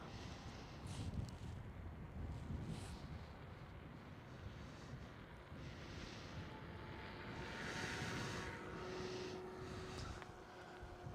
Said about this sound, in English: And then the next one over there on the center runway is that China Cargo Airlines 777.